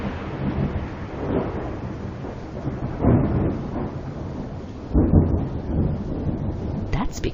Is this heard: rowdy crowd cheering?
no